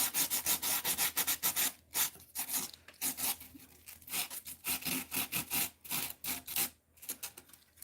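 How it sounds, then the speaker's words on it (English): Coarse 36-grit abrasive rubbed over a freshly textured surface being shaped to look like open-face brick or rock, heard as close, loud rasping strokes in a steady back-and-forth rhythm with brief pauses between passes. "Now, I'm going to hit it with this 36 grit."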